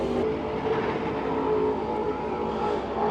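An EAFCar portable 150 PSI air compressor runs while inflating a car tire, a close, steady, buzzing motor drone that holds without a break, with no voices.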